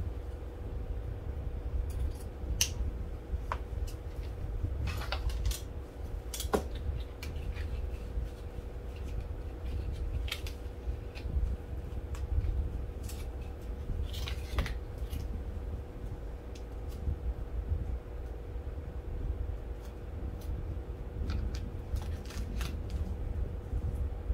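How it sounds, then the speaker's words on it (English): Sharp, sporadic snips of scissors cutting ribbon, close and quiet, separated by short pauses over a low background hum. "So all I'm doing is just cutting all my ribbon up to 6 inches."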